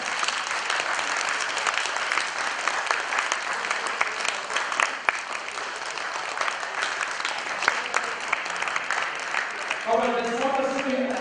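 An audience at an awards conclave claps together, sustained and dense for most of the stretch, fairly loud, with a voice and music-like tones rising near the end.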